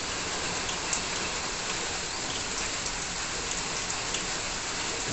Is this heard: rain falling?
yes